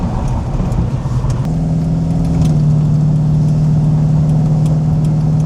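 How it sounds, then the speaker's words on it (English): Steady, loud low rumble of a 1939 Ford 5-window steel-body custom coupe's V8 engine while driving, holding an even drone throughout with a slight shift in pitch partway through and no talking. "You got that V8 rumble."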